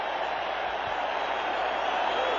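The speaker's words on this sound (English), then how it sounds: "He has electrified this crowd" Stadium crowd at a 1985 Chicago Bears home game against the Green Bay Packers, a roaring, continuous wall of cheering that stays loud and dense throughout, sounding distant and broad.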